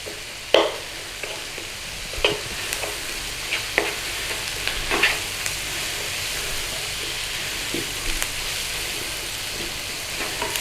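Chicken pot pie filling sizzles gently in a pan as it sweats, a steady soft frying hiss with occasional clicks and scrapes of stirring, close and without talking.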